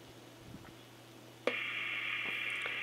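Faint hum and low static from a µBitx amateur radio transceiver with a few soft clicks, then a sudden switch to louder, steady hiss with a held tone.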